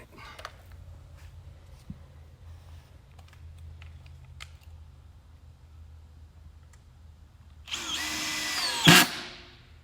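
A power drill whirs up loudly near the end, a short burst of driving screws without pre-drilling, after a long stretch of quiet low rumble and faint clicks.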